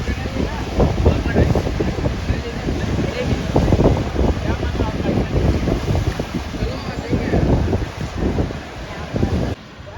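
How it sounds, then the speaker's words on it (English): Powerful monsoon waves crash and surge against a narrow causeway on the Mumbai seafront, a loud continuous roar of churning water buffeted by heavy wind noise across the microphone, with a voice heard over the din. "These powerful waves crash against the narrow causeway."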